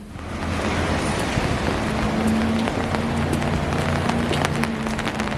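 Steady rain falling on a hard surface in Portland, a dense continuous hiss with occasional louder drips, no voices.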